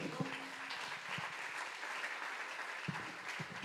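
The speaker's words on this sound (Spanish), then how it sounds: "Démosle un aplauso al Señor, hermanos." A church congregation claps in steady, fairly faint applause, with scattered louder claps standing out and a faint musical tone underneath.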